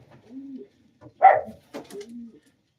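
Pigeons in a loft give two or three soft, low coos with a short flutter-like burst between them, close and fairly quiet, with no talking over them.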